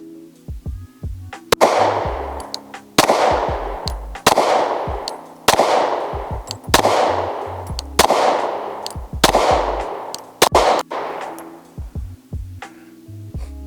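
Glock 19 pistol fired with a Glock 17 magazine, eight loud sharp shots in a steady slow rhythm about a second and a quarter apart, each with a ringing echoing tail, no talking.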